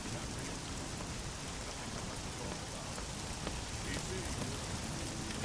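Steady rain falls in the video game Oblivion in a continuous soft hiss with scattered droplet taps, fairly quiet, with no other sounds standing out.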